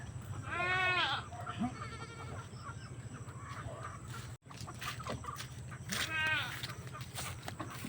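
Goats bleating nearby, two loud wavering bleats with softer calls between, over a steady low hum and faint outdoor background.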